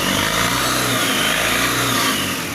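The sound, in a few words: Tata pickup engine revving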